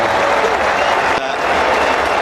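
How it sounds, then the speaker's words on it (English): A cricket stadium crowd stands and applauds at AMI Stadium in an India vs New Zealand ODI, giving a dense, steady roar of clapping and cheering throughout, loud and close with no break. "we'll just let this crowd stand and applaud."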